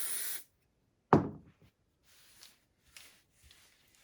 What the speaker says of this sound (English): I just make sure that all my edges are sprayed